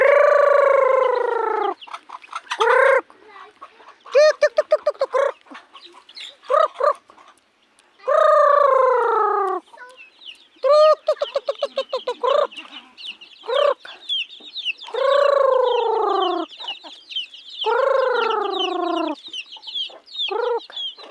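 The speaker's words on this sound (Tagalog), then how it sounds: "Dami nilang manok ni Koro, pero maliit pa." Several chickens cluck and squawk close by in bursts, with high chirps from chicks filling the gaps between the louder calls.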